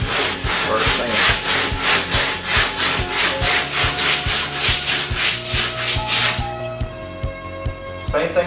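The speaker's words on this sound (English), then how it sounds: "Get your hand sander, wipe it off, start sanding." Hand sander rubbing back and forth over car body work, steady rhythmic scraping strokes at close range, slowing and fading in the final seconds.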